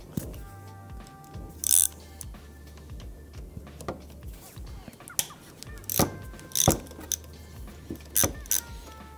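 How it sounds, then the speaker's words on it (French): Lower triple clamp bolts on a motorcycle fork are loosened with a ratchet wrench, sounding as bursts of rapid clicking and metallic clinks, close up and separated by quieter pauses. "On va desserrer nos brides de T inférieures."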